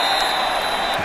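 A football stadium crowd roars in a sustained wash of cheering and applause as a punt rolls inside the 10-yard line, with a high electronic tone running over it.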